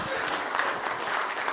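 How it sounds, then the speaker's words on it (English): Wedding guests break into steady, full applause that holds at an even level throughout, with dense clapping from a crowd close by. "big round of applause for that"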